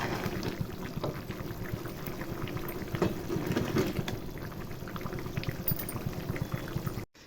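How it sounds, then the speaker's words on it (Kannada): Ghee rice boiling in a pot while cooking, a steady, bubbling simmer with a low continuous rumble, close and even throughout with no talk, cutting off abruptly at the end. "ಸೊ ನೋಡ್ಬೋದು ಯಾವ ರೀತಿ ಕುದೀತಿದೆ ಅಂತ."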